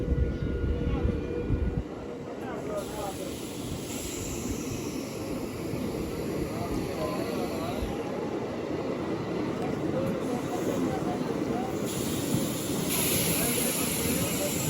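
A MEMU Express train pulling into Stuartpuram railway station at dawn, a continuous rumbling, hissing roar with shifting rattles across the whole stretch, heard from aboard, with a voice talking over it.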